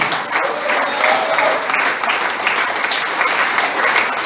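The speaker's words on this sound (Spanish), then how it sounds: "Aplausos y denle gloria." Church congregation applauding together during a Spanish-language sermon, a dense, steady wash of many hands clapping that holds loud and even for the whole stretch.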